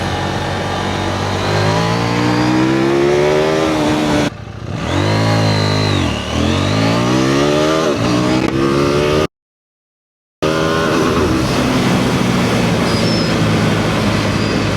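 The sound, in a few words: KTM 790 Duke motorcycle accelerating 0 to 100 km/h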